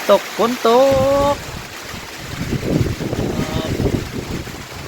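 Heavy rain and wind during an overnight storm make a steady broadband wash that grows rougher and louder, with a person briefly speaking near the start.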